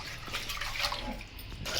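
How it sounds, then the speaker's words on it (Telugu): Water is poured over freshly washed lentils being readied for a spicy, tangy Telugu dal, a steady close splashing and trickling that runs unbroken for a couple of seconds. "కడిగిన తర్వాత నేను కొద్దిగా వాటర్ అయితే యాడ్ చేశాను"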